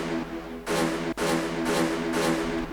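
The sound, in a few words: horn in a track build-up, speeding up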